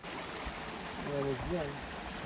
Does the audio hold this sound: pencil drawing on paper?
no